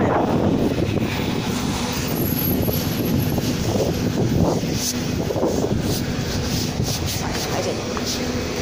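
Strong wind buffets the microphone in a steady, loud roar outdoors near Lei Tung station, Hong Kong, lasting throughout, with faint voices underneath.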